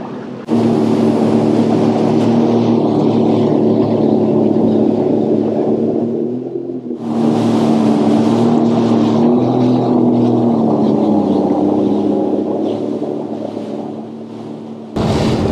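A Sea-Doo personal watercraft cruises across a lake near Sauble Beach at about 50 to 60 km/h, its engine drone loud and steady with wind buffeting, easing off briefly in the middle before surging again.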